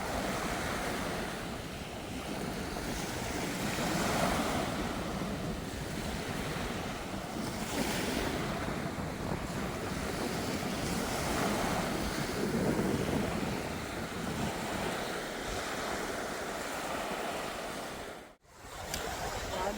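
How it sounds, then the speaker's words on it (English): Ocean waves wash steadily onto a beach in Freeport, a continuous broadband surf roar with gusts of wind buffeting the microphone and no talking. "You can hear the like ocean waves even at the bottom."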